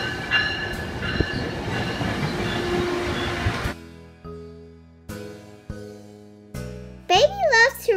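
A Metrolink commuter train rumbles and clatters along the track from inside the car, then the ride noise gives way to quieter moments with a voice and other speech near the end.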